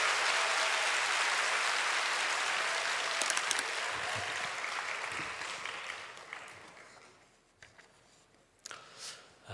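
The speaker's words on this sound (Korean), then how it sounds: "따뜻한 사랑의 박수를 담아서 우리 목사님 모시도록 하겠습니다" A congregation at a Friday night church service claps warmly to welcome a pastor, a dense wash of applause that slowly thins and fades, ending in a few scattered claps and small noises.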